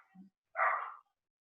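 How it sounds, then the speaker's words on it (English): A dog barking in the background indoors, a single muffled bark preceded by a faint short yip, otherwise quiet. "that is the barking in the back"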